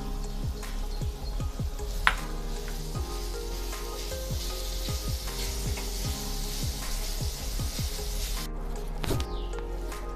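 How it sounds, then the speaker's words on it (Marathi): Khoa milk solids being roasted in a pan while a spoon stirs them, giving a steady soft sizzle broken by repeated scraping and squishing strokes, close and fairly even throughout. "आता आपण यामध्ये खवा थोडासा परतून घेणार आहोत"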